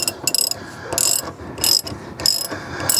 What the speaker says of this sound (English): Using a 5/16 socket wrench, tighten the top bolt.